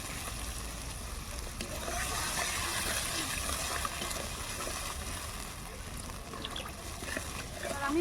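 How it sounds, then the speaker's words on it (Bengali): Water goes into a pan of cooking eggplant with spices, a steady loud sizzle and bubbling hiss that continues throughout with a few stirring scrapes. "সেটা নেড়ে চেড়ে এবার একটু জল দিয়ে দেব।"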